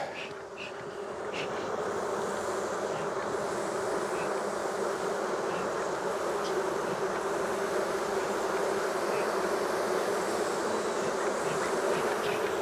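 Close, dense buzzing of many honeybees in an open hive forms a steady droning hum that swells in at the start and holds throughout.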